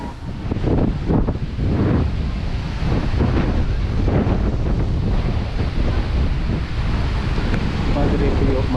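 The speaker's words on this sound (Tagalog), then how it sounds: "Hangin mga master" Strong wind buffeting the microphone at Padre Pio Mountain of Healing, a quarry site, roaring loud and continuous with gusty surges throughout.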